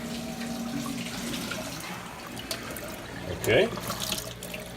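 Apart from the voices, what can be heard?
Frigidaire portable dishwasher running a normal wash cycle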